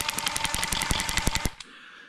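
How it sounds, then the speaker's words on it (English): A John Deere two-cylinder Wico X magneto sparks in a rapid, even train of sharp snapping clicks for about a second and a half, then stops, close and loud with no voices. "You can see how the spark changed with gapping the points"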